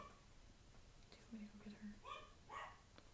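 A dog barks and yips faintly in the distance, a few short barks, while people talk quietly and whisper nearby.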